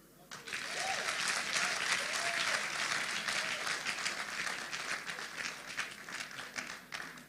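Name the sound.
audience applause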